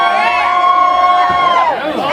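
A crowd at a sausage eating contest during St. Gabriele's Festival cheers and whoops, a loud burst of mixed shouting that rises, then fades near the end.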